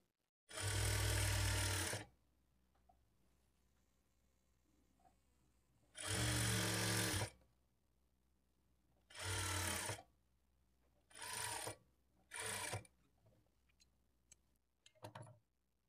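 A sewing machine stitches piping onto a puff sleeve in five close, steady whirring runs that grow shorter, with quiet gaps between them.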